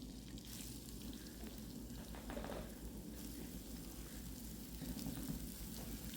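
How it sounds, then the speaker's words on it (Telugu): Pieces of bottle gourd fry in a pan with ginger and green chillies, giving a steady, fairly faint sizzle and crackle with soft stirring sounds throughout. "ఇది బాగా వేగిన తర్వాత సొరకాయ ముక్కలు వేస్తున్నాను."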